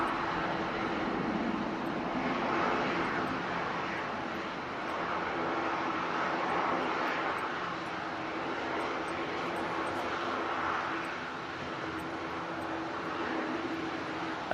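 A jet airliner takes off for Split, its engine roar a steady, broad rumble that holds loud and even throughout.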